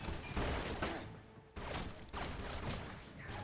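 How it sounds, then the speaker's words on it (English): Gunfire in an action film scene, a dense burst of shots with a brief gap, fairly faint and mixed with the soundtrack. "gunfire erupts"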